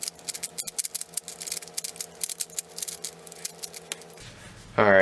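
A D-Fantix Rubik's speed cube being turned quickly, a close run of rapid plastic clicks and rattling snaps in an irregular rhythm, stopping near the end before a short different noise.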